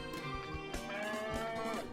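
A cow moos in a long, steady low call lasting the whole moment, set against a dense musical background in a children's fairy tale farm scene.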